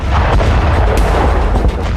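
Cluster bomb blasts from a Ukrainian strike near Avdiivka, heard as loud, dense rumbling booms and bursts that roll over one another continuously with no gaps.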